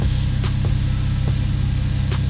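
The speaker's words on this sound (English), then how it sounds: "Got it idling." A Lexus SC300 engine idling steadily on its first start after a build, a close, constant low rumble with faint periodic ticks above it and no talk.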